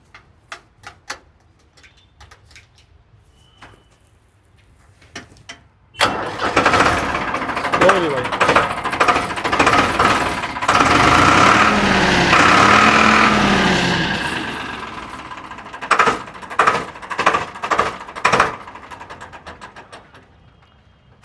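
A Farmtrac tractor cranks and catches after a quiet stretch, then idles loudly with a steady throbbing rumble before settling lower, with clattering ticks and voices of people talking nearby.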